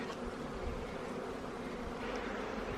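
A dense, steady hum of many honeybees buzzing together at a hive, faint and continuous, with no voices over it.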